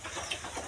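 A chicken gives soft clucks close by, brief and fairly faint, with no talking over it.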